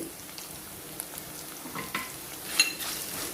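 Green chillies and asafoetida frying in a pan for a tomato-ginger chutney, a soft steady sizzle with a few faint stirring scrapes and a brief clink near the end.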